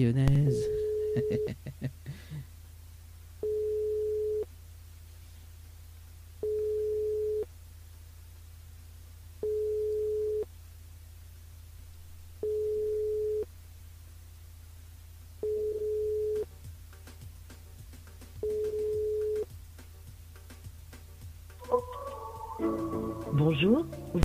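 A telephone line on a radio call-in show gives a steady series of evenly spaced beep tones, about eight in a row over a low hum, with talk at the start and end.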